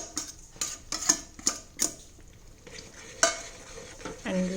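Onions are stirred into butter in a frying pan for white sauce pasta, with a series of close scraping, clinking stirs against the pan over a soft sizzle.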